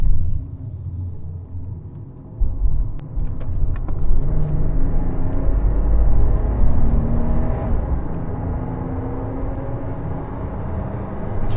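A BMW E28 525e is driven on the road, its engine a loud, deep rumble inside the cabin that builds and holds steady under acceleration, with a few faint clicks above it.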